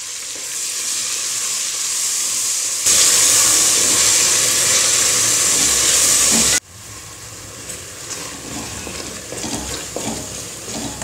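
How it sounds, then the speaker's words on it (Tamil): Tomatoes with turmeric and salt sauté in a pan for South Indian sambar rice, a loud steady sizzle that flares hotter partway through, then settles into softer frying with faint stirring clicks. "தக்காளி வதங்கிருச்சு."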